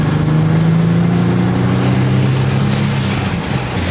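Barn-find Bentley engine at full throttle while stuck in limp mode with no power, a loud, close engine roar whose pitch climbs and then holds, with no talking.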